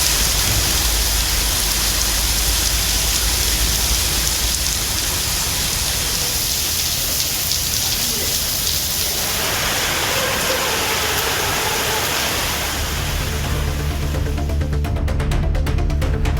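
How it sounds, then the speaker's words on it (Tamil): Steady rain falls across the Pudukkottai city area during a thunderstorm, a constant loud hiss with no distinct thunderclap standing out, its texture shifting slightly toward the end. "புதுக்கோட்டை மாநகராட்சி பகுதியில் இடி மின்னலுடன் கூடிய மழை பெய்தது"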